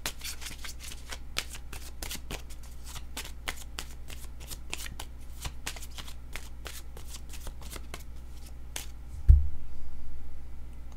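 Oracle cards shuffled by hand for a reading, a steady run of quick riffling card flicks for several seconds, close and soft, ending in a heavier thump and a brief low rumble.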